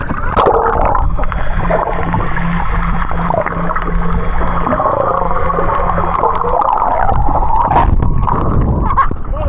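Strong sea waves churn and slosh around a small kayak off Boracay, a loud continuous gurgling wash with water rumbling close by, while people talk over it.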